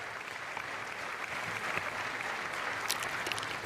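A crowd of members of Congress applauds steadily during the 2026 State of the Union address, a sustained wash of clapping that holds at an even level throughout.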